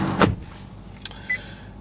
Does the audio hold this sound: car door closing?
yes